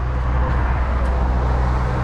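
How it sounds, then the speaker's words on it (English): A Freightliner truck's diesel engine runs with a loud, steady low rumble close by, held at constant revs without clear cranking. "So what you do is once you crank it, kind of hold the pedal to the floor."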